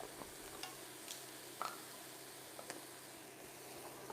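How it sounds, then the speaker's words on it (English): Lamb with ginger and garlic searing in a hot pan, a quiet, steady sizzle with a few soft clicks and scrapes as pieces are added. "You can hear me sizzle happening."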